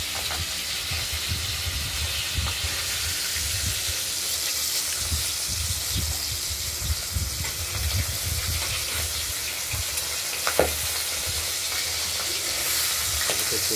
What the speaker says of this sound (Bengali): মাছগুলো দুটো পিঠে হালকা করে আমরা ভেজে নিয়েছি।